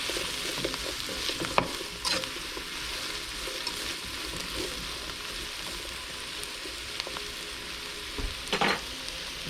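Sofrito vegetables and mushrooms fry over high heat in a pan, a steady crackling sizzle punctuated by occasional scraping stirs.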